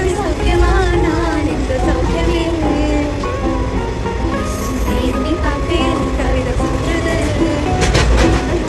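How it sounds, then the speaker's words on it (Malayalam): A passenger train bound for Kozhikode rumbles steadily along, its low rolling drone and rattling carriage noise filling the carriage continuously, with people chatting and voices mixed in throughout. "ഞങ്ങൾ ട്രെയിനിലാണ് അങ്ങോട്ട് പൊയ്ക്കൊണ്ടിരിക്കുന്നത്"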